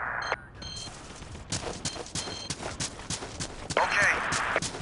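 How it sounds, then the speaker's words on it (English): Artillery firing in the Battlefield video game: a string of sharp booming bursts and crackling impacts spread through the battle din, with voices talking over parts of it. "Artillery firing."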